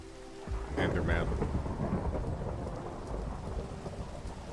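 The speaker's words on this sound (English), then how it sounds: "Oh yeah, the thunder." Thunder rumbles through steady rain during a storm in the Minecraft video game, a loud rolling crash early on that settles into a continuous wash of rainfall for the rest.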